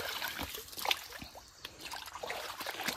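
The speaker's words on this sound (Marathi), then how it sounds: "आता हे पाणी बघा किती स्वच्छ आहे, वरून येते." Water trickles and dribbles softly near an old stone village well fed from a spring above a temple, a faint steady outdoor flow with small splashes throughout.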